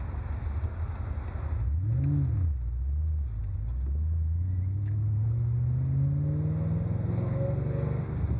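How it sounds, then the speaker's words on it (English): A 1996 Ford Mustang Cobra convertible's throaty exhaust rumbles steadily while driving, dipping briefly then rising in pitch as the engine revs up through acceleration, heard from inside. "Listen to that exhaust. It's just great."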